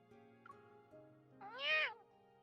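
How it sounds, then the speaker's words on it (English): A kitten in a story-driven video game gives a single short, soft rising meow near the end, heard over a quiet, low ambient music bed. "Kitten suddenly jumped onto Zayne's shoulder"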